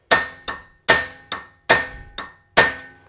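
A hammer drives a punch against the yoke of a vehicle U-joint during replacement, giving seven sharp metallic strikes in an uneven rhythm, loud and close with no talking.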